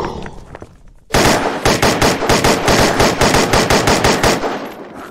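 An RPK-style light machine gun fires in Unturned's Arid update: after a second of near quiet, a loud, close burst of rapid automatic shots rattles on steadily to the end.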